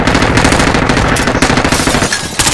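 Loud, continuous bursts of rapid automatic gunfire from a video game battle, with dense overlapping shots and a short gap near the end before the firing resumes.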